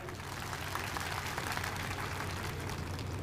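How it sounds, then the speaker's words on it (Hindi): A large crowd at a political review meeting and cadre camp claps steadily, a dense, even wash of applause that holds throughout, fairly faint and distant, with no voices over it. "आप सभी के लिए एक बार जोरदार तालियां हो जाएं"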